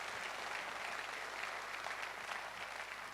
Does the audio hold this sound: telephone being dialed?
no